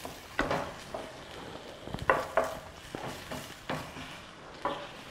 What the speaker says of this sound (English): So we get that sauteing.